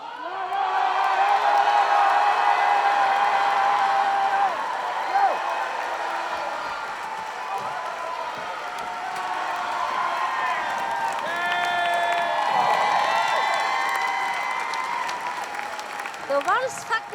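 A large crowd at the Special Olympics in Berlin applauds and cheers steadily, with whoops and shouts rising and falling over the whole stretch, and voices talking within it.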